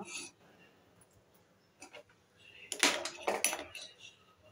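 A lid is set half over a cooking pot of crab masala. It lands as a few quick metallic clanks and clinks, close and moderately loud, after quieter kitchen handling.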